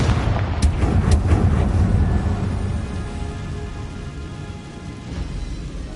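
A Confringo blasting curse exploding in a Harry Potter video game, a loud rumbling blast with a few sharp cracks early on, then a fading, rain-like debris rumble.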